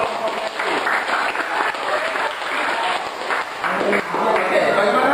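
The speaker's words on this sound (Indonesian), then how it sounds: "kita beri tepuk tangan dulu" Sustained applause fills a vocational high school classroom as students clap steadily together for several seconds, dense and close, with scattered voices mixed in.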